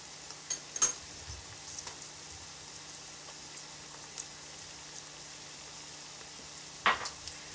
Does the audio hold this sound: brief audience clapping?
no